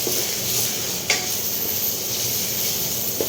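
Asafoetida (hing) drops into hot oil in a pot while Bengali-style khichuri cooks, giving a steady close sizzle with a brief sharp crackle near the start and light stirring, no talking.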